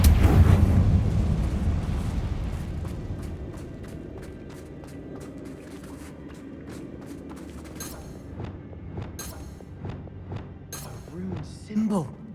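A Confringo explosive spell blast in Hogwarts Legacy bursts loudly at the start and rumbles away, followed by quieter crackles and sharp magical pops and clicks scattered through the rest.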